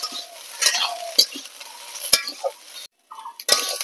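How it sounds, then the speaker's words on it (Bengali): Cut moringa drumsticks frying with potatoes in a pan are stirred, giving a close, crackling sizzle with repeated metal clinks and scrapes of the utensil and a brief quiet gap before the sizzle resumes. "সজনে ডাঁটাটা দেওয়ার পরে একটু নাড়াচাড়া করে নিই।"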